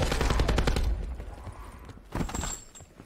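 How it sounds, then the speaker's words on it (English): Gunfire from zombie shooting in Black Ops 4 Blackout, a rapid burst of shots up front, a brief lull, then another short volley, moderately loud. "I was shooting at zombies"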